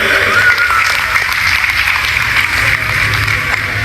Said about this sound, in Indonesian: Al-Mukarram Habib Zidan bin Yahya, berikan tepuk tangan yang meriah